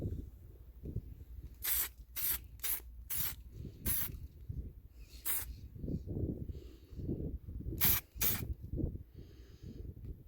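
Short hissing bursts from a spray gun painting the inside of a Ford Fusion door, several quick sprays in a row and a couple more later, with workshop rustling and handling noise in between.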